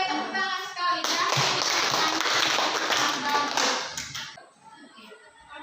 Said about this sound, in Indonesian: tepuk tangan sekali ya